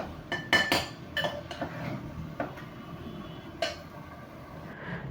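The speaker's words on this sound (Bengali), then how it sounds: "প্রেসার কুকারে আর এটাকে ভালো করে কষাবো" Meat with salt and mustard oil being stirred in a pressure cooker, the spoon giving a few sharp metallic clinks and scrapes against the pot in a cluster early on, then sparser taps over a low, steady kitchen background.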